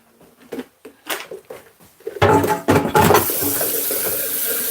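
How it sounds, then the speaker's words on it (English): A tap in a kitchen fills a kettle: a few light clinks and handling knocks come first, then the water switches on with a loud, close splash that settles into a steady rushing stream, with no talking. "I need to catch some water in my kettle"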